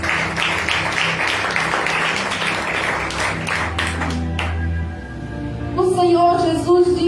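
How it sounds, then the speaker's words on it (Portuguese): A church congregation at a deliverance service claps hands in praise, a dense run of rapid overlapping claps that fades out midway, followed by singing or tonal voices. "Louve e exalte o Senhor com palmas."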